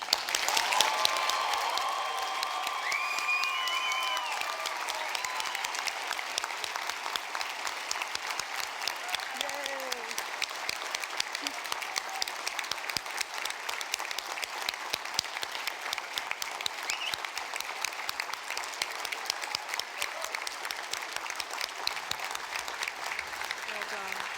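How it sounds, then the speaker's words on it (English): A full graduation ceremony audience at Victoria University gives a sustained round of applause for the new graduates, dense steady clapping filling the hall from start to finish with a few scattered cheers early on. "Could you please stand and join me in an uproarious round of applause?"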